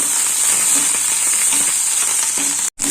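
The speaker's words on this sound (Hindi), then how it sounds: "पियाज रो पेस्ट को भला भाबरे पकेनाबा" Onion paste fries in hot oil with a loud, steady, close sizzle and hiss that lasts the whole time, then cuts out abruptly near the end, with no talking.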